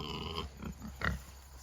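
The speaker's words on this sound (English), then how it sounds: "So those are our Berkshire pigs." Berkshire pigs on a farm on a fall day grunt and oink close by, with a few short, rough snorts in quick succession.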